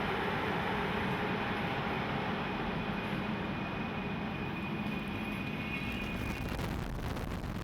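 A passenger train travelling in Croatia, heard from inside as a steady, dense rumble with broadband rushing noise throughout, continuous and moderately loud without distinct events.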